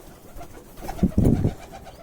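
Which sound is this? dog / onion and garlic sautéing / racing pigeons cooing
racing pigeons cooing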